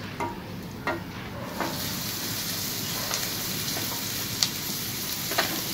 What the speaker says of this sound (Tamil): பெரிய வெங்காயம் 2 போட்டு நல்லா செவக்க வதக்கிக்கலாங்க